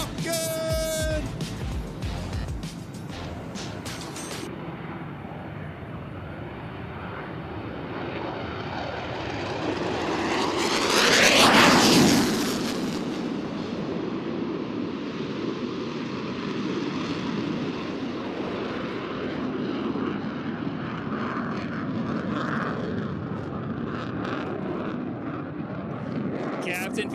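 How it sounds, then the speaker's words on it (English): F-16 Fighting Falcon with an afterburning turbofan engine roars past at an air show, a loud swelling jet rush that peaks and fades to a distant rumble, with an announcer talking over it. "F-129 afterburning turbofan jet engine."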